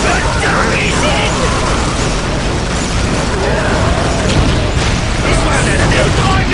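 Ork gunfire in the Dawn of War video game: loud, dense, continuous rattling bursts and booms fill the whole stretch, layered with battle noise and voices talking over it.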